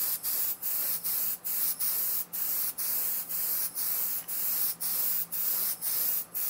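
Spray gun applying even coats of pearl paint onto a model car, a steady hiss broken into regular bursts by about a dozen short pauses as it sweeps back and forth, close and fairly loud.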